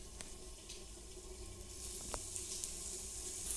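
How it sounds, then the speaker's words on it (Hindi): An aloo paratha frying in oil and desi ghee in a frying pan gives a steady, soft sizzle that swells slightly partway through, with a few faint clicks and no talking. "तो हमने इसको फ्राई पैन में डाल दिया है। अब हम इसके ऊपर डालेंगे थोड़ा सा ऑयल।"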